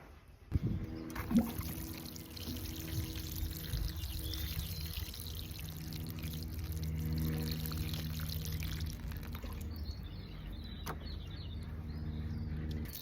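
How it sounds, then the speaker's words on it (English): Water pours steadily into a plant pot of soil, a soft continuous splashing and trickling that runs for several seconds, with faint birdsong in the background. "Just going to give that a really good water till it starts coming out from the bottom"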